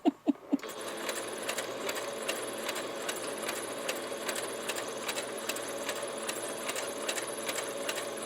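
A sewing machine stitches a fabric ruffle in one steady, continuous mechanical whir, after a few sharp knocks at the start, with no talking.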